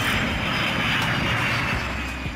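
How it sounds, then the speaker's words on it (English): A private jet, a small luxury aircraft, sounds as a steady, loud engine roar with a broad rushing hiss that holds throughout, without voices. "Private jet."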